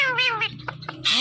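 A talking parrot imitating a cat's meow, giving a drawn-out wavering meow followed by shorter chirps and another meow call, close and clear.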